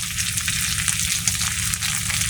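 Garlic frying in oil in a pan for a Bengali fish curry with lentil dumplings gives off a steady, close, bright sizzle and crackle that runs without pause, with no talking over it.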